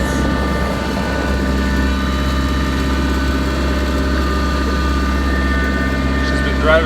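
A Kubota tractor engine runs at a steady, low, throbbing idle-like drone, close and continuous, with harmonic hum throughout and a brief knock near the end.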